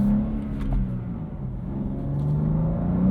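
A 2023 BMW M2 with a 6-speed manual driven at Road America, a low engine drone and road rumble heard from the cabin, rising slightly in pitch as it picks up speed.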